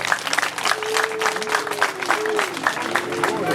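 Crowd applause at an outdoor political rally in Nyagatare, Rwanda, welcoming a presidential candidate, a dense steady wash of clapping with scattered whistles and voices mixed through it.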